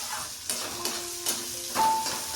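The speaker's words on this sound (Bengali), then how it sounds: "রসুন তিল এগুলো সব একসাথে ফ্রাই করে নিলাম" Garlic, sesame seeds and green chillies fry together in a pan, a continuous sizzle broken by several sharp stirring scrapes and clinks of a utensil.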